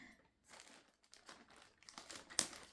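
A mail package holding a Hobbii yarn order is cut and pulled open with scissors, producing close bursts of plastic crinkling and rustling that come in uneven waves with short pauses and one sharper snap near the end.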